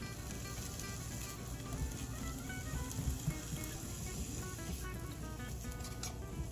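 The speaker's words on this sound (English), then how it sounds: "I have the pan, my skillet, heating up, so I'm gonna saute it" Chopped prosciutto sautéing in a hot skillet gives a steady, close sizzle and crackle that holds even throughout, with no talking.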